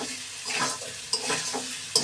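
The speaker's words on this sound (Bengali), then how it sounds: "ভাজা ফুলকপি দিয়ে নেড়ে চেড়ে আলুর সাথে মিলিয়ে দেবো ভালোভাবে" Cauliflower and potatoes fry and get stirred in a pan, with a steady sizzle and scraping strokes of a spatula; two sharp clinks of the utensil against the pan stand out near the end.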